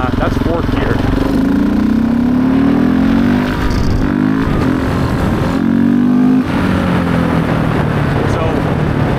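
A 700cc naturally aspirated snowmobile engine revs hard in fourth gear on frozen tundra, its loud rising drone climbing steadily in pitch. It dips briefly and then pulls up again, with a voice speaking over it.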